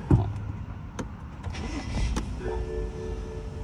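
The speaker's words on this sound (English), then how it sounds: "I'm gonna start this car." A 2012 BMW 535i with a 3.0L engine and a misfire fault cranks and starts, and a soft idle settles in afterward. The sound is fairly quiet, with a few clicks and clunks around the start.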